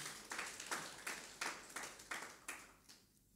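A church congregation at a worship service claps for Jesus in a series of about eight distinct, evenly spaced claps, fairly quiet and fading at the end.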